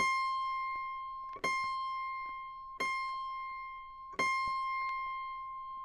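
A single autoharp string tuned to high C rings out, plucked four times at an even pace; each pluck gives a bright, clear tone that decays slowly, heard up close and alone.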